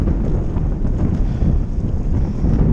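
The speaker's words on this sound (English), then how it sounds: "the wind has just picked up a lot just in the last 5 minutes" Strong wind buffets and roars steadily against the microphone while kiteboarding on a 12m Switchblade kite with a Duotone Spike board, a loud, continuous rushing noise with no voices.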